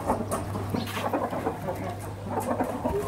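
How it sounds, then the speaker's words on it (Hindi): Chukar partridges cluck and chatter busily after leaving their cage, a close cluster of overlapping bird calls in a continuous stream over a low steady hum. "ये हमारे चकोर आ गए बाहर"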